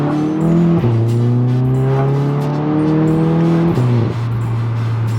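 A VW MK7 GTI fitted with a MAP downpipe exhaust pulls hard, its engine droning loud and steady with rising pitch, dipping briefly at two gear changes before climbing again.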